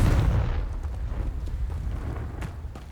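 Confringo blasting spell explosion in Hogwarts Legacy on PS5, a heavy deep boom that hits loud and close at the start, then rumbles and fades over a few seconds with a little crackling debris.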